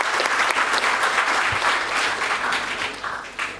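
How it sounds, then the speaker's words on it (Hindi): Audience applause at a student entrepreneurship event in India, a steady patter of many hands clapping at moderate loudness for a few seconds, fading slightly toward the end. "750 तालियां होनी चाहिए।"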